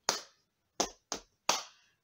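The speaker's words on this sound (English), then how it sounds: "time to tap our knees and clap our hands" Four sharp percussive hits, close and distinct: a pair spaced apart, then two quicker ones, like hands slapping knees and clapping in a simple rhythm.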